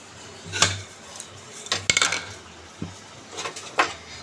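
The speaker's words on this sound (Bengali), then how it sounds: "চিনিটা দিয়ে ভালো করে আমি তেলের সঙ্গে মিশিয়ে নিচ্ছি" A spoon stirs sugar into hot oil in a cooking pan: a few sharp metallic clinks and scrapes against the pan, up close and spaced apart over a quiet background, with no talking.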